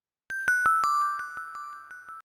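A DX7-style synth playing the Fluttering Celeste bell-key preset, heavily processed with gate, auto pan and RC20: a run of bright, chiming bell notes struck in a quick regular rhythm, ringing with a shimmering sustained tail, clear and alone.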